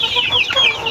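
Quality laying hens of a three-way cross breed cluck close by in short, quick, bright calls that follow one another across the brief moment.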